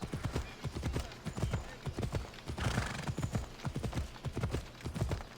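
A horse ridden up a mountain in the video game Assassin's Creed Odyssey, with rhythmic hoof clip-clops at a brisk, even gait throughout and a brief whinny in the middle.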